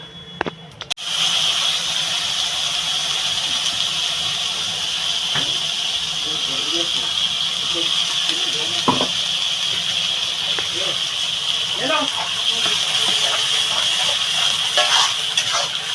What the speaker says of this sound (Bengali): মশলাটা বন্ধুরা ভালো করে কষিয়ে নেব যতক্ষণ পর্যন্ত মশলাটা তেল না ছাড়বে